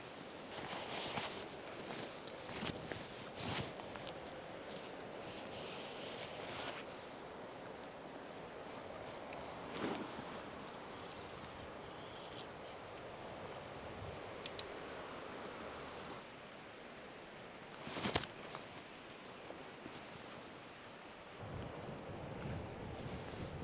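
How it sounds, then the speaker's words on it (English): Steady wind buffets the microphone outdoors while steelhead fishing, a constant rushing roar with occasional louder gusts and thumps over a watery background. "Definitely windy."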